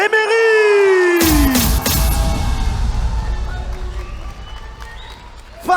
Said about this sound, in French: un tonnerre d'applaudissements pour Teunga Emery